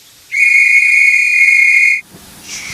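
A train's whistle sounds once, a loud, steady high tone held for nearly two seconds before cutting off abruptly, followed by a faint softer blow.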